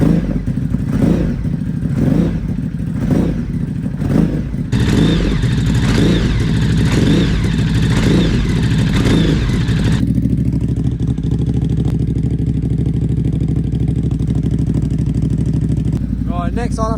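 A 2022 Ducati Hypermotard 950 SP with a VanDemon exhaust takes a string of loud, rhythmic throttle blips up close. The blips then settle into a steady, deep idle rumble.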